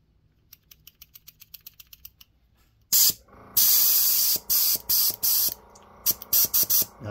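Lubricant sprayed from an aerosol can onto the parts of an airbrush while cleaning it, heard as several sharp hissing bursts of varying length after a series of faint light clicks, close up and loud.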